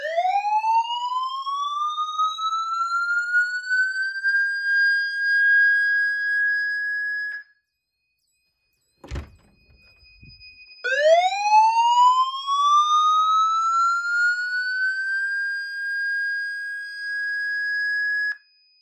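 A vintage Honeywell fire alarm sounding during a system test: two long, piercing rising whoops that sweep up and hold a shrill tone, separated by a pause with a brief clunk, loud and near.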